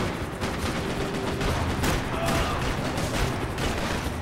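Gunfire in Max Payne 3, a dense, continuous volley of shots rattling with loud, even intensity throughout, with no gaps and no voices.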